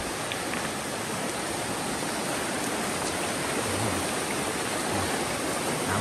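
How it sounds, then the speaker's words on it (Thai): A fast-flowing river being waded across on foot, its loud, dense rushing roar continuous and close throughout, with no voices. "คนเดินระมัดระวังนะครับว่าน้ำเชี่ยวแรงมาก"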